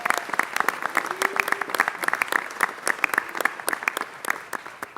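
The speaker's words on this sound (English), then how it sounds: "Let's give the Nowruz Celebration Foundation a big round of applause." A city council meeting audience applauds the Nowruz Celebration Foundation with dense, sustained clapping that tapers off slightly at the end, a voice faintly audible beneath.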